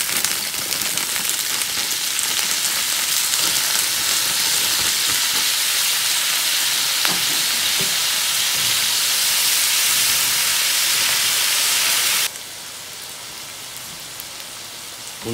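Tofu frying in a pan with fresh shiitake and chopped onion, a loud dense sizzle that runs steadily and then drops sharply in level toward the end, no talking.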